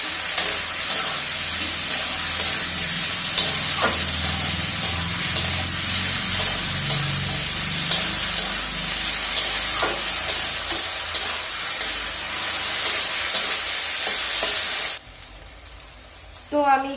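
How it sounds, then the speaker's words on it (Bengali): Food seasoned with salt and turmeric fries in a pan with a dense, continuous sizzle and regular scraping stirs, then the sizzle drops away sharply near the end, leaving quiet room noise. "ভেজে নেব"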